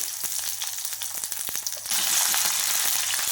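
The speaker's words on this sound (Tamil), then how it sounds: "இப்போ இதெல்லாம் நல்லா தாளித்து விட்டுக்கலாங்க. வெங்காயம் நல்லா வணங்கட்டும்." Onions and curry leaves sizzle in hot oil in a pan for a mint biryani tempering, with a few clinks and stirring scrapes before the frying swells into a loud, steady hiss.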